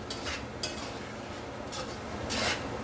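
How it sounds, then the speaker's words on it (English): Rice and chicken for Puerto Rican–style arroz con pollo being stirred in a pot over high heat: a few scraping, rasping strokes of the spoon against the pot, the last one longer and louder, with no talking. "Mix it all around."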